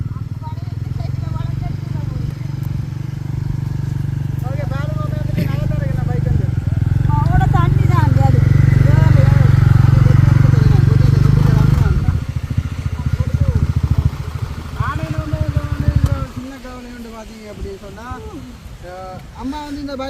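A motorcycle engine rumbles steadily, swelling louder in the middle, while voices talk over it throughout.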